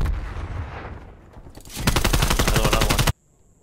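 Rapid automatic gunfire rattles out in a Call of Duty Black Ops Cold War Search and Destroy match. A quieter stretch comes first, then a dense, close burst of shots stops abruptly into near silence.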